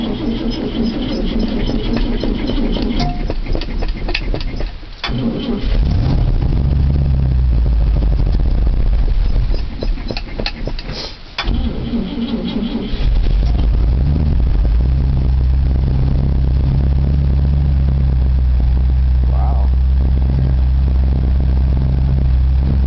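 A 1973 International 392 big block V8 cranks over after three weeks sitting and catches into a loud, steady cold-start idle, with low rumble filling the background and a couple of brief dips early on.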